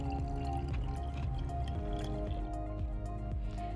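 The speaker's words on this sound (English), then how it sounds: "we're going to pour our pond water in" Pond water is poured into a plastic bottle of compost for a classroom science setup, a close gurgling trickle with drips and wet squishing, running steadily under a low steady hum.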